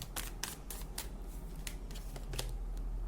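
Tarot cards are being shuffled and drawn: a run of short, crisp riffling and slapping bursts, about ten in three seconds, close and fairly quiet over a low steady hum.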